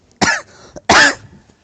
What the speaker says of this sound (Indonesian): Nah, sampai batuk tuh.